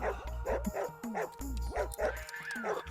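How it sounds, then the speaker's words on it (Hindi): Dogs bark and yip repeatedly in quick, uneven bursts, close and loud, with some whining pitch bends between barks. "मेरे पीछे कुत्ते पड़े हुए हैं"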